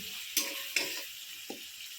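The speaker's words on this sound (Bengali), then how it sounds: "লো ফ্লেমে মশলাটা কষিয়ে নিচ্ছি" Spice masala with turmeric, chili and cumin powder being roasted in oil over a low flame, a soft steady sizzle broken by three sharp spatula knocks, quiet and close with no talk.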